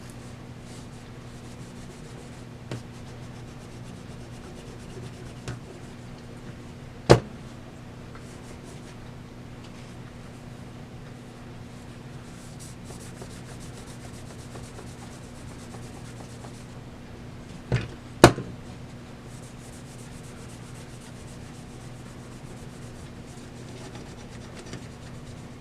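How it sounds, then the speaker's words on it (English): A coin mechanism from a bulk toy candy machine, being converted from 50 cents to one dollar, gets its edge polished by hand: a steady, soft rubbing and rasping that runs throughout, with a few sharp knocks standing out. "Then we can finish polishing it up along the edge."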